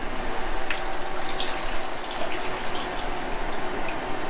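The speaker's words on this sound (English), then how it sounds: "Dip it in the water again." Water splashes and trickles as a foot orthotic mold is dipped into a water bath, a steady close wash of sloshing and dripping with a few brighter splashes near the start.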